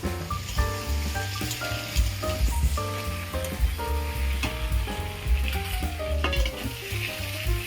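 Ground ginger, cumin and coriander paste sizzles with tomato in a pan for a snakehead fish curry, a steady frying hiss with stirring throughout, largely masked by louder background music.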